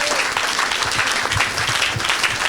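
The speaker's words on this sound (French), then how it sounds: "Acclamez pour Jésus." Steady applause rolls through a church congregation, many hands clapping together at an even, full volume without pause.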